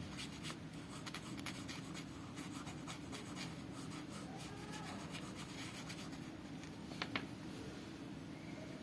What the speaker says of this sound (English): We again use red color and draw the shape of star